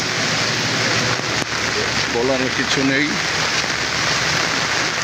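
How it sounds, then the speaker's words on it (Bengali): Heavy rain pours in a steady, loud hiss, and someone briefly speaks over it near the middle. "প্রচণ্ড বৃষ্টি হচ্ছে"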